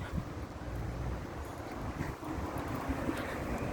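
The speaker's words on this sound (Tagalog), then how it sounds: "Sobrang mahangin." Strong wind in Rome, Italy roars and buffets the microphone continuously, with a dense rushing noise and no voices.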